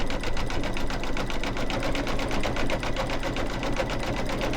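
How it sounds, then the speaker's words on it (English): An embroidery machine sews a satin stitch around the bottom of a snowman head on a mug rug, with a fast, even mechanical pulse running continuously and close. "now it's going to go down around the bottom of the snowman head and do a nice satin"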